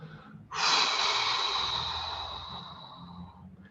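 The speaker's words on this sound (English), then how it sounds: "Just blow it all out with the breath." A deep breath exhaled during an evening meditation, a single long, close, airy whoosh that begins sharply and slowly fades over about three seconds.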